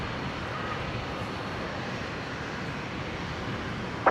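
A Qantas airliner passing at Brisbane International Airport, heard as a steady, broad jet roar at moderate distance that holds evenly throughout without talk.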